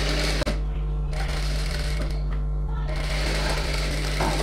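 A sewing machine runs steadily, stitching the lining of a designer blouse. It gives a close, continuous mechanical whir with a low motor hum, and the stitching pace briefly eases in a couple of places.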